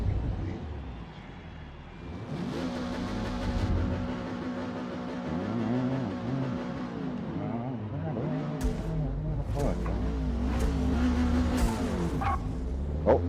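A 1967 Renault race car runs on track, its engine droning and shifting pitch, with brief tire chirps and squeals near the end and a voice talking over it.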